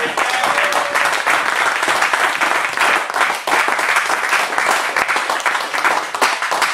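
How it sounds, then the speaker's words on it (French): A church congregation applauds loudly and steadily, dense continuous clapping filling the space for the whole stretch, with scattered voices and cheers mixed in. "Acclamons très fort le Seigneur."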